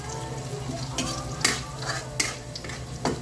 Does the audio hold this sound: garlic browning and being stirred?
yes